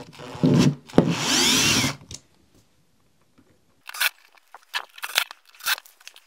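A powered bit on an adapter unscrews a tight screw from a DCA ASM04-150 angle grinder: a loud two-second whirring burst, then quieter clicks and rattles of handling.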